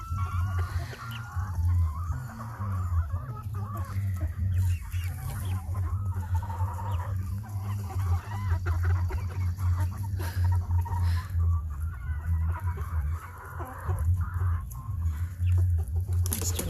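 Backyard garden chickens cluck and murmur continuously close by, a busy layered flock chatter with occasional louder squawks, no talking.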